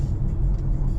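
A Toyota HR Hybrid 1.8 car driving on a road in Bangkok gives a steady, loud, close low rumble of road and engine noise, with no talking.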